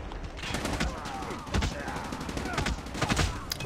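Automatic rifle fire from an HVK30 in Call of Duty Mobile, several bursts of rapid shots crackling over busy game noise, with louder bursts near the middle and the end.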